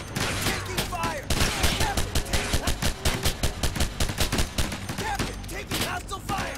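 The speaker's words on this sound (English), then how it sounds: "Captain, taking hostile fire!" Rapid bursts of automatic gunfire in the video game Ghost Recon 2, loud, dense volleys crackling nearly nonstop while voices shout over the firefight.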